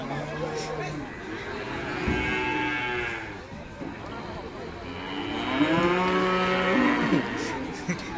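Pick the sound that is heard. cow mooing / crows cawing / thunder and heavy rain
cow mooing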